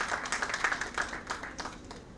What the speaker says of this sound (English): Clap once again.